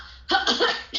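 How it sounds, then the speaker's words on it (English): A man coughs after laughing, two or three harsh, close throaty bursts in quick succession, heard alone. "He laughs until he begins to cough."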